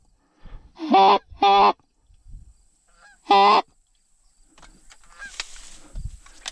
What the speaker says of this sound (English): We just had about 15 geese land on the same pond as the other ones.